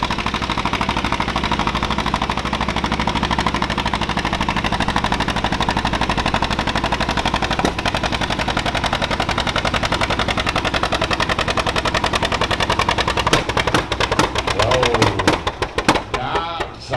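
Loud, continuous roar of a John Deere tractor engine straining down the track at a pulling event in Mondovi, Wisconsin, with dense rapid popping pulses running throughout and a brief surge near the end.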